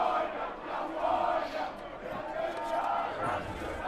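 A stadium crowd at a college lacrosse game sings the Cal drinking song, a distant, reverberant mass of voices swelling in long sustained phrases.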